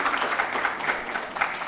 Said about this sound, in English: A big round of applause for our concluding panel